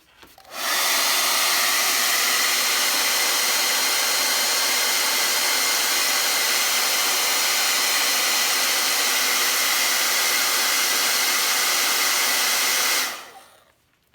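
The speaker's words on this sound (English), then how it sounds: "I'm just going to hit it really, really fast with the blow dryer." A hair dryer switches on and blows with a loud, steady whoosh for about twelve seconds, then cuts off, with no talking over it.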